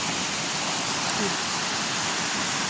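Rushing water of a waterfall, a dense, steady broadband roar filling the scene without pause, loud and close, with no clear talking.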